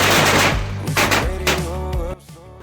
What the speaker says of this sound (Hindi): ये आखिरी पटाखा भी छोड़ते हैं